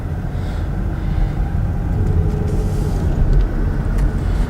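Steady engine rumble from a 2019 Volkswagen Jetta S turbo as it accelerates through a residential area, a continuous low drone with slight swells in the middle and toward the end.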